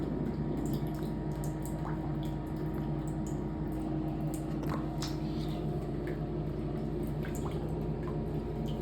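A bathroom shower runs with a steady, muffled hiss of falling water and faint drips and splashes over a slow-draining floor, continuous and moderately close.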